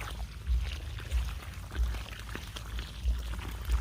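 Water pouring onto soil around a newly planted bamboo clump, a continuous splashing gush with periodic low surges as the flow shifts, no talking.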